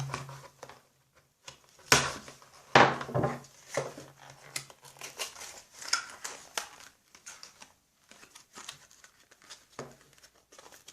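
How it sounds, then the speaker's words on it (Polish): Paper packaging being torn and peeled off a Panasonic RP-HS34 headphones box, close-up irregular rips, crinkles and scrapes with a few sharp loud tears and quiet gaps between. "Prawie cały papier udało się fajnie ściągnąć."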